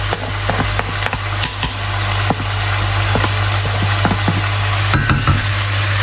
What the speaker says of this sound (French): on va y mettre notre mignon de porc et on va le faire colorer